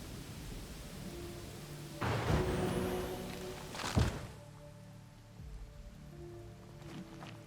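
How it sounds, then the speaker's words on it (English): Rain falls in a fantasy video game, a steady patter on surfaces with a louder wash around the middle, a couple of dull thumps, then a softer drizzle. "And now it's rain"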